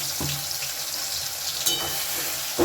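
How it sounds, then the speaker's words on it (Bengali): Spice paste for Afghani paneer fries in hot oil, a close steady sizzle and hiss with a few sharp bursts of spattering and scraping as it is stirred, and no voices. "এবারে এই তেলের মধ্যে দিয়ে দেব যে মশলাটা আমি পেস্ট করে রাখলাম"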